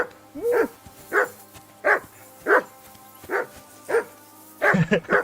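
A dog barks in Kingdom Come: Deliverance II, sharp single barks repeating at a steady pace, about seven in all, with a quick burst of several barks at the end over a low background hum.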